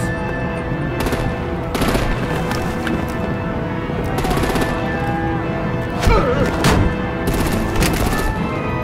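Gunfire and explosions from the Batman: The Enemy Within video game fill the scene, with rapid bursts of shots and heavier crashing blasts in dense, loud clusters over a constant rumble of combat.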